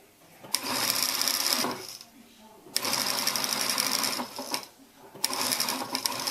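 A sewing machine stitches a fabric neckband for a shirred choker in three loud, close runs of rapid whirring, each separated by a brief pause.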